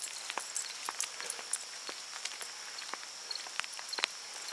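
Rain patters steadily and lightly on an outdoor path while a walk with dogs goes on, with scattered close drops and soft ticks over a quiet background hiss.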